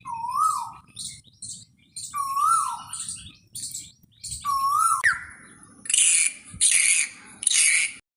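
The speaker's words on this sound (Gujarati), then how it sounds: "મને કોયલનો અવાજ ખૂબ ગમે છે" Asian koel calls ring out close and loud, three rising whistled notes spaced about two seconds apart, mixed with quicker chirps and tweets from other birds.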